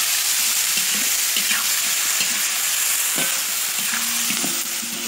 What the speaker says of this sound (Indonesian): Kita masukkan daging ayamnya yang sudah dipotong-potong.